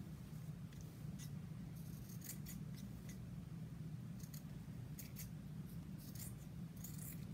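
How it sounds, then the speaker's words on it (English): Scissors trim the fabric edges of a bowl cozy in a run of quick, faint snips over a low steady hum, with no talking. "trim these edges because I want to have a nice crisp edge"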